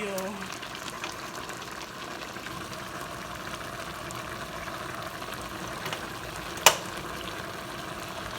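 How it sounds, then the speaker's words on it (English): A pot of turnip greens simmers on low heat on a stovetop, a steady soft bubbling hiss with one brief sharp clink, as a person talks over it. "I have turned the heat down to more of a low simmer"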